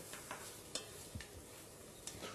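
Chopped onions stirred into melted butter in a saucepan, heard as faint, sparse spoon scrapes and soft wet shuffling with a light sizzle.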